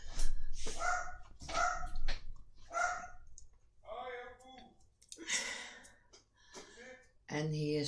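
A dog barks in a few sharp bursts early on, followed by a person talking nearby, the barking fairly close and clear.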